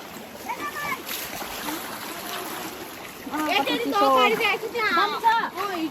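River water splashes and trickles over stones, a continuous close babble under voices talking that get louder in the second half.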